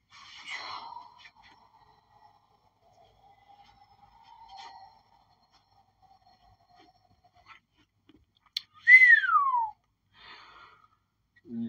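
A person whistles in reaction to a rap track: faint thin tones drift through near silence, then one loud, sharp whistle sweeps downward near the end.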